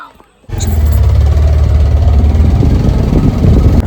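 A motorbike engine idles close and loud, starting abruptly after a brief quiet moment and then holding a steady low rumble with faint irregular knocking throughout.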